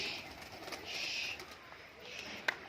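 Giribaz fancy pigeons coo softly in a loft setup, low murmuring calls drifting in and out at a distance, with a brief sharp tap near the end against quiet background.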